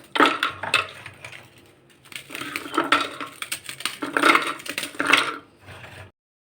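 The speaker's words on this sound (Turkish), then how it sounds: "ben de bisküvilerimi mutfak robotumdan geçireceğim." Biscuits pulverised in a food processor: loud, rattling bursts of crushing and clattering come in several pulses of about a second each, separated by short pauses, then stop abruptly.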